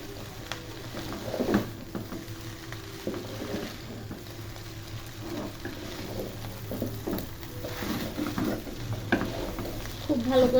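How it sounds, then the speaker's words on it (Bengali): Hakka noodles with beef are stir-fried in a pan, a low steady sizzle under repeated scraping and tossing sounds from a utensil, close and moderately quiet. "খুব ভালো করে নাড়িয়ে চাড়িয়ে দিতে হবে"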